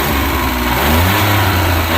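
Libero engine with its covers off, running loud and close with a steady low roar and a throttle blip lifting the pitch partway through, with no talking.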